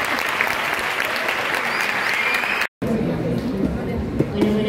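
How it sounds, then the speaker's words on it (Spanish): A graduation audience at a secondary school ceremony gives loud, dense applause for the school director, sustained clapping with crowd murmur that cuts off abruptly and gives way to a quieter room with a voice speaking. "Un fuerte aplauso."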